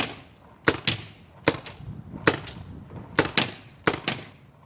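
Five evenly spaced pairs of sharp pneumatic cracks from a Dangerous Power Fusion Elite airsoft gun, loud and close, each shot followed almost at once by a second snap.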